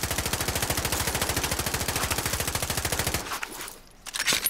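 Sustained rapid automatic gunfire in the video game Warzone, a steady rhythmic burst of dozens of loud shots lasting about three seconds, then trailing off into scattered quieter game sounds.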